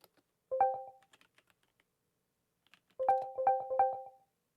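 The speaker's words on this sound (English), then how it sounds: "I started typing first." Typing on a computer keyboard comes in two short bursts of quick clicky keystrokes, close and clear, with near silence between the bursts.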